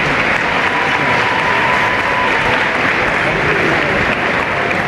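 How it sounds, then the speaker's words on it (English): A basketball championship crowd applauds with steady, loud clapping that holds at an even level from start to finish. "Let's have a round of applause for both of these teams"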